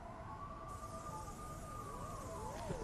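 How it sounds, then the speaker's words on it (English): Sirens in the video game inFAMOUS Second Son wail in the distance, a rising and falling tone sweeping steadily under ambient city noise, fairly faint and continuous. "I'm hearing sirens, man."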